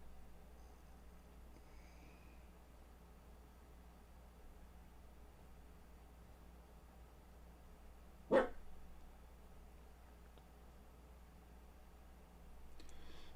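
A dog gives a single sharp bark partway through an otherwise quiet stretch of low room hum. It sounds somewhat distant, with no other barks around it.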